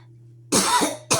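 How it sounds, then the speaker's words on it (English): A person coughs twice close by, a harsh burst lasting about a quarter second, then a brief pause and a second cough. A steady low hum sits underneath, and nobody speaks. "they're trying to make me cough"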